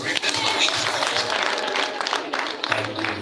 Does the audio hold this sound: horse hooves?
no